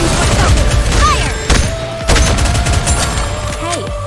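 Rapid gunfire and cannon blasts in the mobile shooter game NIKKE, with sharp repeated bursts and thumps over layered game music and effects, loud and close.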